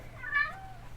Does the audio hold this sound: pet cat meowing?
yes